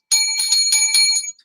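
A bright bicycle-style bell rings close and loud, four quick metallic dings in a short burst, then falls silent.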